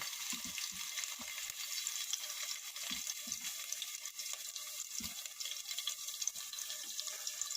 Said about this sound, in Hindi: अभी मैं उसमें ये चिलीज डाल दूंगी फ्राई करने के लिए।